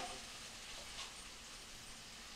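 Onions sauteing in a pan for old-fashioned goulash, giving a soft, even sizzle that holds steady and quiet throughout with no voices.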